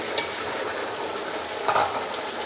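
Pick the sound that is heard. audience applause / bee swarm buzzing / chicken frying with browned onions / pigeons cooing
chicken frying with browned onions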